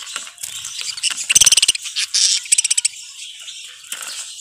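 Budgies flutter and flap inside a cage, with rapid wingbeat bursts, fast rustling flaps and a few faint chirps, close and fairly loud with quiet gaps between.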